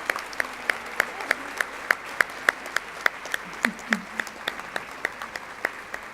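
A sparse audience at an English teachers' convention applauds, with distinct, fairly close claps in a quick steady rhythm over a thin bed of softer clapping, and faint voices murmuring underneath.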